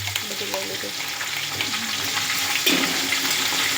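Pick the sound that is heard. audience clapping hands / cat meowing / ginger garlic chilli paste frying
ginger garlic chilli paste frying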